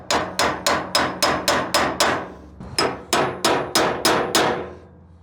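A hammer drives a steel chisel against bolt threads on a trailer suspension, ringing out in two quick bursts of about nine sharp, evenly spaced metallic strikes each, close and loud, with a short pause between the sets.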